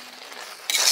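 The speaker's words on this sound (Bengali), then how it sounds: "পায়েসটা নেড়ে নিচ্ছি।" A spoon stirs payesh, a rice pudding, in a pot: a quiet soft moment, then a short, brighter scrape of stirring at the end.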